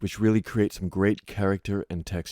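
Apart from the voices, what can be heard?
No distinct noise like a dog, phone or traffic.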